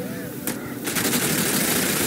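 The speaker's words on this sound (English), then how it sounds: "Marines under hostile vehicle fire" Hostile vehicles fire on marines in Halo Wars 2, a sustained rattle of rapid gunfire with dense bursts filling the mix while voices speak over it.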